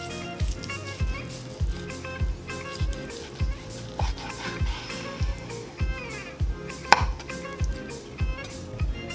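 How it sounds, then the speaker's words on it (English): A knife slices through a medium-cooked sous vide pork loin, producing a steady, regular series of soft thuds against the board with low background music throughout. "Now let's slice it."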